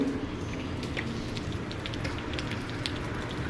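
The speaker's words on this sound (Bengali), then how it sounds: "দেখতে পাচ্ছ বাইরে কি বৃষ্টি হচ্ছে" Steady rain patters continuously outside, a soft, even hiss with scattered light drips, fairly faint and with no voices.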